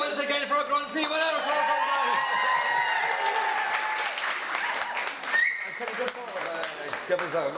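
Crowd at an advertising awards night applauding a Grand Prix winner, sustained loud clapping with whoops and shouts, a voice talking over the ovation.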